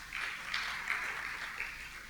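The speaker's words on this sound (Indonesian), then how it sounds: "Tepuk tangan untuk laki-laki." A church congregation at a Sunday worship service claps for the men, a soft, fairly distant patter of applause that holds steady with small swells.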